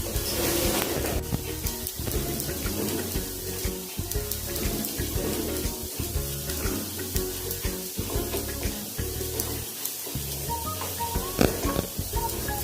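Poha appe and tikki cutlets fry in an appe pan, giving a steady close sizzle and crackle with occasional light clinks and scrapes throughout.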